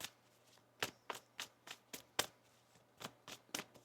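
Tarot cards being shuffled by hand, ten or so crisp riffling bursts in an uneven rhythm, close and fairly quiet, with a low steady hum underneath.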